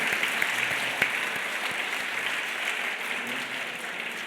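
An audience at a women's health panel event gives a steady, moderate round of applause that stays even from start to finish, with no voices over it.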